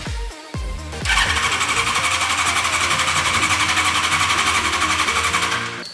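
A sleeper project car engine, mounted with a partially installed firewall, cranks with a couple of short starter bursts and then a sustained whirring, grinding crank for about five seconds before stopping.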